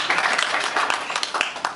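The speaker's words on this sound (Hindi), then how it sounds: "कम से कम मेरे गाने पे तो ताली बजाइए" An audience claps and applauds at a Hindi comedy poetry recital, a dense burst of many hands filling the whole short moment.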